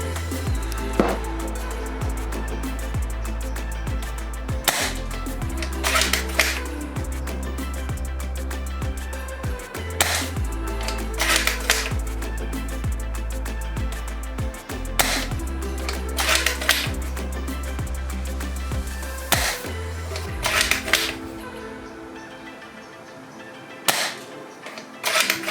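Shots from a Novritsch SSG10 airsoft sniper rifle fitted with an upgraded M180 spring, each a crisp, sharp snap fired one at a time at irregular intervals of a few seconds, heard over a steady low background hum.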